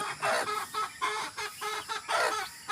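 Chickens cluck in repeated bursts, with a hen among her small chicks nearby, close and fairly loud with short calls overlapping throughout.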